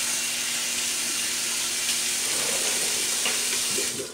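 Cold tap water runs steadily into a sink during a February wet shave in Montana, a constant close hiss with faint trickling changes toward the end.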